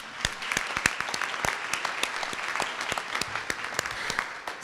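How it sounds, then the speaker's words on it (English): Applause from the audience at an evening awards ceremony, a steady patter of many hands with sharp individual claps standing out, moderately loud and continuous throughout. "I'm just got to give another round of applause here."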